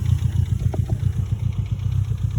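A Mitsubishi EVO 4 engine idles low and a little rough, producing a steady, close rumble with a faint clatter throughout and no voices.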